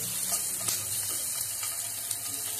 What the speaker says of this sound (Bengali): এবার তেলে দিয়ে দিচ্ছি দুটো কাঁচা লঙ্কা,